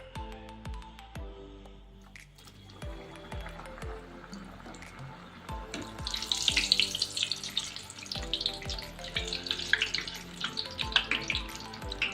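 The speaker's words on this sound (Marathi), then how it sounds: "आता तेल तापले आपण तळून घेऊ आता शंकरपाळे" Shankarpali dough pieces frying in hot oil, with a steady bubbling sizzle that grows louder and busier in the second half, mixed with occasional clinks from the pan.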